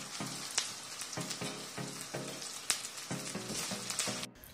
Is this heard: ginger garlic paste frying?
yes